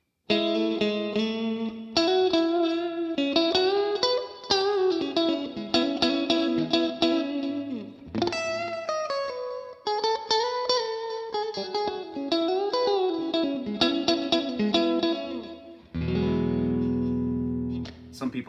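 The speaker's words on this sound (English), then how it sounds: "Now position 4, the bridge and middle pickups together." A Strat-style electric guitar with the bridge and middle pickups combined on a budget loaded pickguard plays clean, bright chords and single-note runs, loud and close, ending on a sustained strummed chord.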